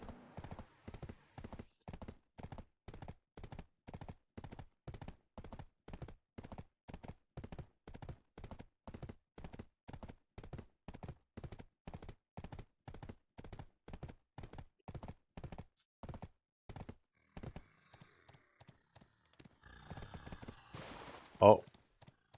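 Horse hooves clip-clop in the Black Desert video game, a long, steady, even-paced run of soft close hoofbeats that slows and fades near the end before a sudden loud burst of game effects.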